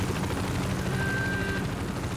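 Helicopter in the video game Cryostasis, a steady low rotor rumble filling the whole short stretch at moderate level, with no talk over it.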